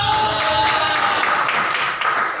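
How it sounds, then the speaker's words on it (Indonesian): Worshippers at an Easter service give another round of applause, a broad continuous wash of clapping from a large congregation in a church hall, sustained and even before tapering slightly near the end. "Bisa diberikan lagi tepuk tangan"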